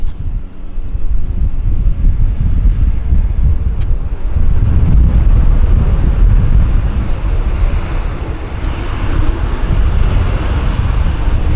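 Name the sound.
WestJet Boeing airliner passing slowly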